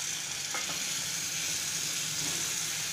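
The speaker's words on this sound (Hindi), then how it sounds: "गैस का फ्लेम को लो करके मसाला को अच्छी तरह से भून लेते हैं।" Masala frying on a low flame for an eggplant curry makes a steady, even sizzle and hiss, close and unbroken, with a couple of faint stirring touches.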